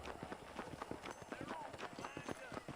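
Horse hooves clip-clop in Red Dead Redemption, a steady, fairly loud rhythm of sharp hoofbeats that continues throughout, with a voice talking along underneath.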